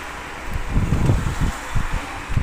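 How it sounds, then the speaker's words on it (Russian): Wind blowing on a street in a Yenişehir neighbourhood of new apartment blocks, a steady broadband rush with a few low gusty buffets against the microphone. "Ветерочек хороший дует, не жарко нам."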